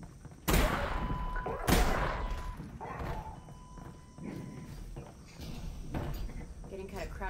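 A shotgun fires in the VR game Half-Life: Alyx, giving two sharp, loud blasts about a second apart, followed by quieter game noises and a voice talking.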